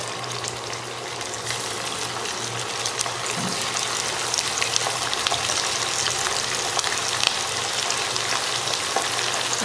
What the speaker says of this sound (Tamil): இப்போ எண்ணெய் நல்லா காஞ்சிருச்சு. இதில் நம்ம சிக்கனை போட்டு பொரிச்சு எடுத்துக்கலாம்.